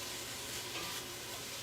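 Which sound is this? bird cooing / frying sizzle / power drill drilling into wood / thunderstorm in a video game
frying sizzle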